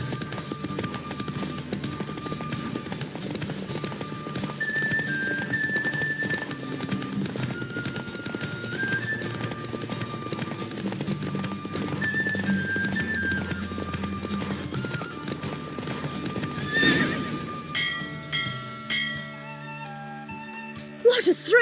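A horse gallops through a race in The Witcher 3, with steady rapid hoofbeats, music running throughout, and a neigh near the end.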